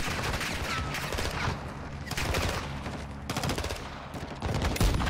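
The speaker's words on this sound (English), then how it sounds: "Oh, I shot Alejandro." Gunfire in the video game Modern Warfare 2 (2022): rapid automatic bursts in several loud, close volleys separated by short gaps, dense and continuous within each burst.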